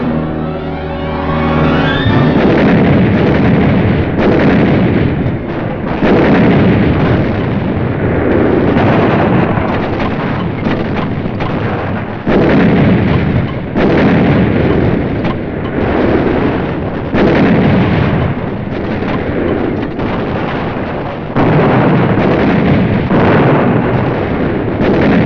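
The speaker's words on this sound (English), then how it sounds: "We call for artillery." Heavy artillery fire from the Battle of Iwo Jima, a dense, continuous roar of booms and rumbling blasts that stays loud throughout, with no voices.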